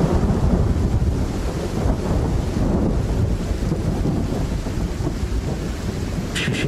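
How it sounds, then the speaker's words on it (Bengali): A thunderstorm sound effect plays as a loud, dense, continuous roar of rumbling thunder and gusting wind. A sharp crackle comes near the end. "শেষে একবার প্রচণ্ড জোরে বাজ পড়ল"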